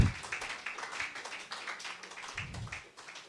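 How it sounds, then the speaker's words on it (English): Scattered applause from an audience, many light overlapping claps, fairly soft and a little distant, with a few low murmurs underneath. "If you want to clap, clap, clap."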